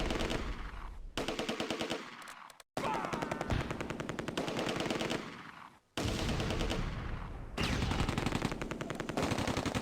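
In the Close Combat war game, a Vickers machine gun and rifles fire in long rattling bursts, separated by two brief pauses, loud and dense throughout.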